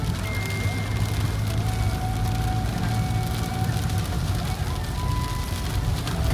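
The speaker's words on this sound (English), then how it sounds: "So in Bangalore it is rain with traffic, and here it is nature and rain." Rain falls outdoors in the hilly countryside of Sakleshpur and Chikmagalur, a loud, continuous broadband hiss with faint tonal hums running through it.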